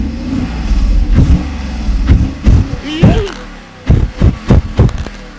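Mercedes-Benz S500 W140 V8 engine revving, with a low rumble broken by several loud, close throttle blips that build in quick succession toward the end.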